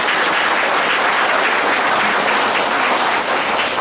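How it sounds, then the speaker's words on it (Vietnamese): Dense, loud applause from a congregation at a Lunar New Year Mass for a Cursillo movement gathering in Los Angeles, steady and unbroken for a few seconds. "Xin chúng ta cho một tràng pháo tay."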